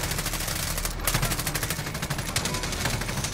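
A PKM machine gun in Modern Warfare fires long sustained automatic bursts, a steady rapid rattle of shots close and loud throughout with little pause.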